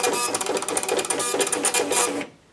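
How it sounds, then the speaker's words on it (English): A receipt printer on a cash-counting machine prints in a dense, buzzing burst of rapid mechanical chatter, loud and close, that stops abruptly. "you can print out a receipt with all of that information right on it."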